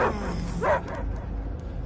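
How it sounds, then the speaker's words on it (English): A dog barks and yips twice in quick succession, close and loud, followed by quieter ambient noise in a dramatic film scene. "I hear only barking."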